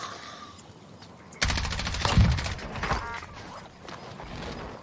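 A sudden burst of rapid automatic gunfire in Call of Duty Warzone erupts and keeps clattering loudly for a few seconds, with a heavy low thump partway through, then eases into lighter distant shooting.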